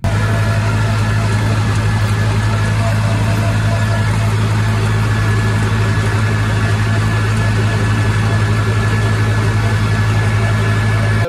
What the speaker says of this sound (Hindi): तो ये वाला ट्रैक्टर लेके चलते हैं 47-10